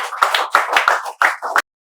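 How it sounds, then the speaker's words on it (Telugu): Students at a spoken English institute clap in welcome, a close burst of applause in uneven surges lasting under two seconds before stopping sharply. "2 తెలుగు రాష్ట్రాల విద్యార్థులు చప్పట్లతో స్వాగతాన్ని తెలియజేస్తున్నారు"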